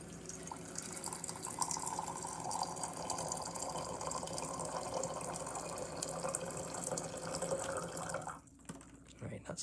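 Steady stream of water pouring into a locking kitchen appliance, a continuous low-level rush lasting several seconds before cutting off near the end.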